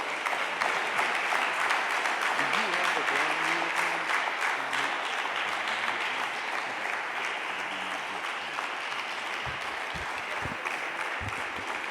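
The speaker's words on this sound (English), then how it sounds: "Please welcome him on with a round of applause." A lecture audience gives a speaker a welcoming round of applause, a dense, steady clapping that carries on loudly for about twelve seconds with scattered murmurs underneath.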